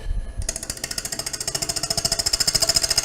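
A wood lathe turning tool cuts an arc in a spinning workpiece during live woodturning, giving a close, loud, rapid rhythmic chatter that starts abruptly and grows steadily stronger.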